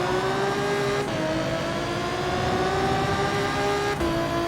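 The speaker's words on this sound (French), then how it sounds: "Le bruit de la voiture est sympa aussi" A race car engine in the video game Gran Turismo 7 drones loud and steady at high revs, its pitch climbing through each gear, with two brief dips at the shifts.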